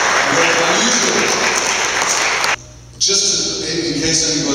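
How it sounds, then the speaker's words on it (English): A church congregation applauds loudly and steadily, a dense crowd clatter that drops out briefly near the end, then resumes. "why don't you give yourself a little round of applause"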